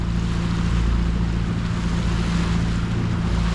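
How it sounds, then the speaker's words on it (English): A boat engine drones steadily on Lake Ontario with water lapping and wind noise over it, a continuous low rumble that stays close and fairly loud, with no talking. "the droning of the engine and some lapping water"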